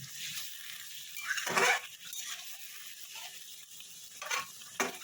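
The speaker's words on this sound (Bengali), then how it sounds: "একটু আমি জল দেবো, দিয়ে একটু ভালো করে নাড়িয়ে নেবো।" A batter of greens being stirred after water is added, with soft wet swishing and scraping in a bowl, a few louder strokes standing out against quiet moments.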